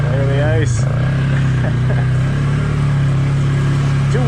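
A 450 engine drones loud and steady while the vehicle rolls over ice on two-wheel drive, with a person talking over the engine noise.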